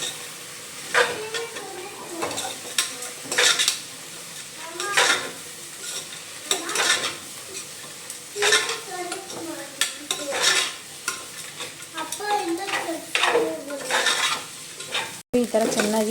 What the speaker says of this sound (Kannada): ಈ ಥರ ಚೆನ್ನಾಗಿ ಒಂದು 5 ನಿಮಿಷ ಆದರೂ ಫ್ರೈ ಮಾಡ್ಕೋಬೇಕು.